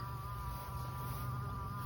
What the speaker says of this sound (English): And I got a bee buzzing somewhere.